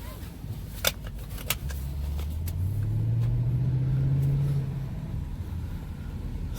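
A 2008 BMW X5 with a 4.4 liter V8 pulls away from inside the cabin, its low engine hum rising steadily in pitch then settling, with a couple of faint clicks early on.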